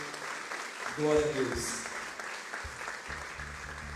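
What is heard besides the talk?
church congregation applauding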